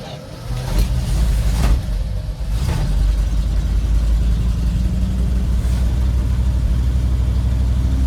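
A 1975 Dodge D100 pickup fitted with a new cheap carburetor catches after long cranking and runs rough, a loud close engine rumble with a few uneven bursts at the start before settling into a steady low drone in snowy outdoor surroundings.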